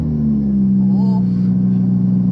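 A boosted Lamborghini making around 800 horsepower gives a deep, steady engine rumble with a strong low growl that holds constant and loud, without a clear rise in pitch.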